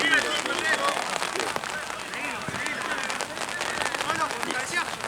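Steady rain hisses continuously across an outdoor football field during a lower-division adult match, a dense, even wash of droplets with no pauses.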